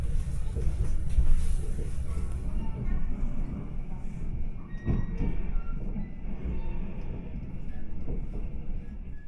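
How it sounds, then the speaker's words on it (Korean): A Korean Mugunghwa passenger train runs along the rails, heard from inside as a continuous loud rumble with rattling and faint rhythmic wheel clatter throughout. "5시 45분 무궁화호를 탔습니다"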